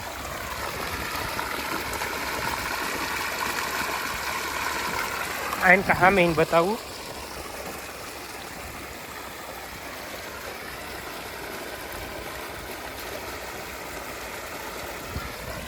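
Irrigation water flowing through a channel in a cumin field, a steady rushing trickle heard close throughout, with someone talking over it and a brief burst of louder voice in the middle.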